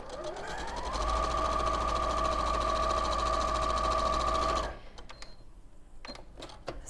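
A sewing machine runs in one steady continuous burst of stitching for about four seconds, loud and close, then stops and leaves quiet room noise with a few small clicks.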